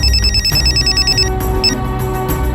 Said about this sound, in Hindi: हाँ सीमा बोल, क्यों बार बार फोन कर रही है?